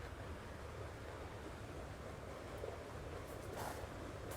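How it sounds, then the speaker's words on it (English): Water flows steadily somewhere in a farm garden, a soft, constant rushing wash heard from a distance with faint breezy noise and no voices. "Why don't we just follow the sound of water on this garden tour?"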